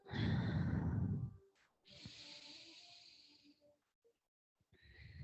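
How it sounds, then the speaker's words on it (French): Long, deep breathing during a kundalini yoga session: a strong, loud exhale, a pause, a long hissing breath, silence, then another breath beginning. No talking. "Longue respiration, encore 2."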